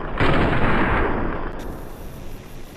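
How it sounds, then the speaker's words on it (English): Gunfire at an enemy's head in a Fallout-style VATS sequence in a video game, loud close blasts merging into a rumbling burst that tails off over a few seconds, with no talk. "Entering into vats, I attempt to take 3 shots at his head,"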